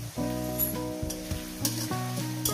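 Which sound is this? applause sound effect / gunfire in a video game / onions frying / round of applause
onions frying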